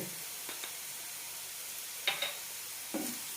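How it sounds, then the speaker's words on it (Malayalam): Onions sauté in a pan with 1.5 teaspoons of Kashmiri chili powder for a mushroom curry, making a continuous close sizzle broken by a few short scrapes of stirring. "നന്നായി വഴറ്റാം."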